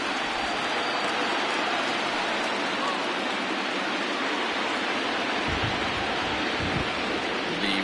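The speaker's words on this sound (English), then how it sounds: "Well, the rain starting to intensify here. It's coming down a little heavier now." Rain falling on a ballpark during a baseball game, heavy and intensifying, a constant dense hiss with faint low rumbles underneath and no talking.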